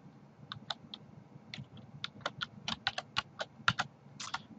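A password is typed on a computer keyboard in a quick run of about fifteen close, crisp key clicks at an uneven rhythm, over a faint background hum.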